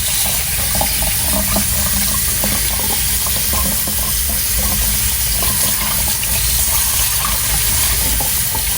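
Running water soaking grocery store orchid roots during repotting, a loud, steady close-up splashing stream with faint handling noises underneath.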